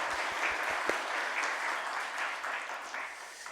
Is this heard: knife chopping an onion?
no